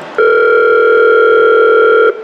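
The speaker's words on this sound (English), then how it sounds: "for a number of these phones by default, sounds like ring back" A single steady electronic tone sounds for about two seconds, clean and loud, then cuts off.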